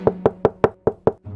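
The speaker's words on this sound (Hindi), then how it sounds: "साधु भोलू के घर का दरवाजा खटखटाया।" Someone knocks on a house door: six firm, evenly spaced raps in quick succession, close and distinct, followed by a softer final tap.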